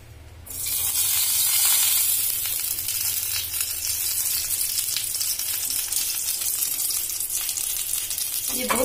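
Refined oil sizzles in a hot appe maker, a loud steady hiss that starts abruptly and continues throughout, close up, with faint talk underneath.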